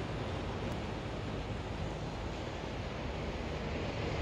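Black Sea waves off Sochi heard from a seventh-floor hotel balcony, a continuous broad roar of surf mixed with wind buffeting the microphone, steady and loud with no talking.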